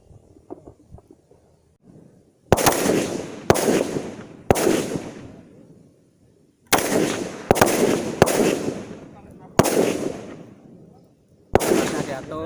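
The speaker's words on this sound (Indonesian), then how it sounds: "Silahkan tembak yang sudah pas." Rifle shots ring out one at a time at an Indonesian Air Force Paskhas corps shooting practice, each a sharp, loud crack with a decaying tail, spaced irregularly a second or two apart after a quiet start.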